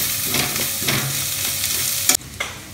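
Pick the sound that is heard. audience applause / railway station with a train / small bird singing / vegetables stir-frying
vegetables stir-frying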